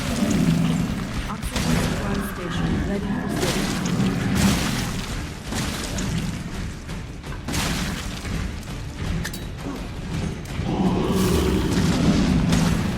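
Grenade blasts and heavy booms pound continuously during a boss fight in the survival-horror game Resident Evil 7, a dense, loud barrage of explosions and rumbling combat with someone talking over it.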